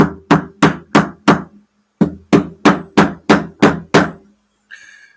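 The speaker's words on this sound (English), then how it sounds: "little tiny ball peen hammer" Sharp metallic taps from a tiny ball peen hammer on an Atlas GP7 model locomotive come in two bursts, five strikes then six, evenly spaced and close, with a faint ringing after.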